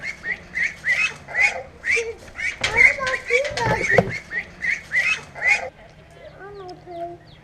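Young ducks kept in a corral inside a garage quack and honk repeatedly in quick bursts, fairly close and loud, with a voice talking briefly in the middle.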